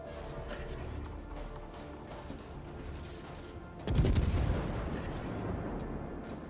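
Naval gunfire from the battlecruiser Alaska in World of Warships: a steady rumbling battle background, then a loud booming salvo with a broadband blast that keeps rolling and churning afterward.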